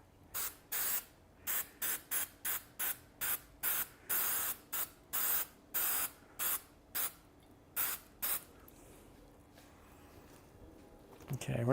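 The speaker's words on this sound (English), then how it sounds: "I'm going to spray some adhesive on here" Spray adhesive hissing from an aerosol can onto an acrylic panel template, about fifteen short, even bursts in a steady rhythm, close and crisp, then a brief quiet pause.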